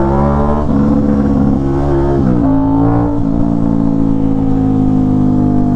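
A middleweight sport bike engine revs loudly and close by. Its steady buzzing drone rises and dips in pitch partway through, then settles to a constant hum.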